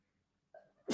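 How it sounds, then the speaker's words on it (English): A single loud sneeze bursts out near the end, closing a short, close indoor moment of quiet breathing and a faint vocal sound. "Unprofessional to sneeze on air."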